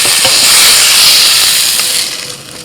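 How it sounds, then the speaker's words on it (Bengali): Eggplant frying in hot oil with salt and turmeric gives a loud, steady sizzling hiss up close, easing off slightly toward the end. "লবণ আর হলুদ দিয়ে ওই তেলের মধ্যে বেগুনটাকে ভেজে নিচ্ছি।"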